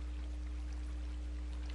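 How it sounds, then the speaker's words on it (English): Water in Minecraft pours down after a lever pulls pistons back, a steady faint rushing flow under a constant low hum. "you can pull the lever here, pulls the pistons up, releases the water. It'll all come down to the bottom here"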